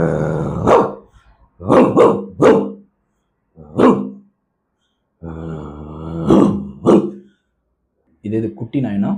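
A person imitates a gruff dog with rough, growly barks in short bursts, several separate yaps spaced across the clip, close and loud.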